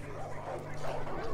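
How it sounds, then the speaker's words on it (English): Dogs barking and yipping in the video game Far Cry 5, a busy cluster of overlapping canine calls at moderate distance over steady game ambience. "Dogs everywhere."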